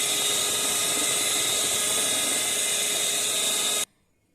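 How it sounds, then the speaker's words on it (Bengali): An electric mixer blending cake batter of sugar, white butter and eggs for a bakery-style fruit cake: a continuous loud, high whirring drone that stops abruptly near the end. "এবারে এটাকে ভালো করে আমি ব্লেন্ড করে নেব।"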